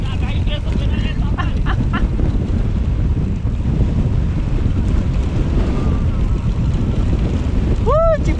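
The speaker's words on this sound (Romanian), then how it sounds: "Ce bate vântul, bă!" Strong wind buffets the microphone nonstop while cycling in the Macin Mountains, a loud low roar filling the whole stretch, with brief voices early on and a short whistle-like tone near the end.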